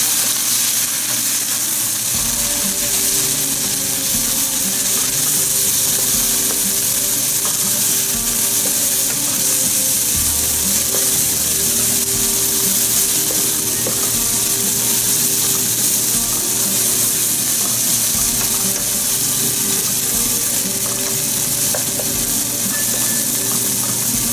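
Ginger and garlic paste frying in a pan for a paneer and mixed vegetable dish, giving a steady, continuous sizzle with faint clicks and scrapes throughout and no talking.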